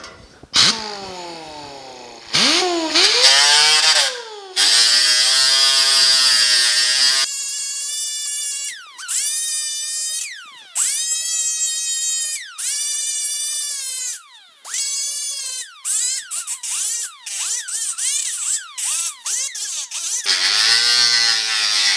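Coarse 24-grit abrasive on a power sander works the lower cab patch panel of a 1950 Chevy truck, a close, loud whining grind in repeated bursts that rise and fall in pitch as the tool loads and lifts.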